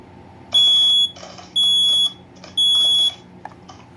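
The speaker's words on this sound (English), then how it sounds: "smoke alarm. Go test it." A SimpliSafe SSSD1 smoke alarm test sounds three loud, shrill beeps, each about half a second long and evenly spaced, in a quiet room.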